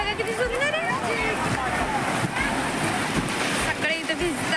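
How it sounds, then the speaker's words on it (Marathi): Sea waves wash and break steadily at Diveagar beach on the Konkan coast, a dense surf roar heard up close, while several people talk and call out over it throughout. "इकडे बघा किती सुंदर लाटा येत आहेत."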